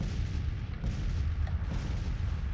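Cannon artillery fire in the Civil War strategy game Grand Tactician, a dense rumbling barrage of distant booms that overlap into continuous low thunder, with no talking.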